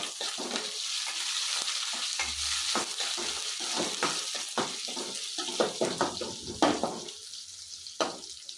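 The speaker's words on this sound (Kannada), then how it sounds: "ಈರುಳ್ಳಿನೂ ಹಾಕ್ಕೊತಾ ಇದ್ದೀನಿ. ಬೇಗ ಬೇಗ ಆಗುತ್ತೆ, ಯಾಕಂದರೆ ಎಣ್ಣೆ ಕಾದಿರುತ್ತಲ್ವ" Onions tossed into hot oil with curry leaves while cooking soya palak rice, giving a steady close sizzle with utensil clatter and stirring knocks throughout, no voices.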